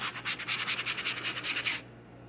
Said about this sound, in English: just by sanding as much or as little of that paper as you want